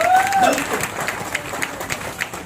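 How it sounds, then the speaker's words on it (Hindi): An audience seated in a three-star hotel hall breaks into applause, a dense burst of clapping that is loudest at the start and then continues steadily. "एक बार उनके लिए जबरदस्त तालियां।"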